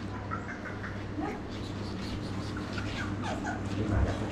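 Dog at a market in Bangkok giving soft whimpers and yips amid a busy outdoor bustle, with people chatting nearby and low background hum.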